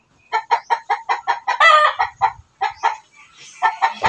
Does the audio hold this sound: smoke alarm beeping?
no